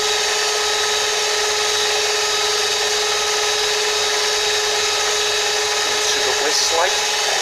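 An electric whisk beating cookie dough for chocolate chip, oat and raisin cookies, a loud, steady high-pitched motor whine that runs unbroken throughout, with a brief scraping change near the end.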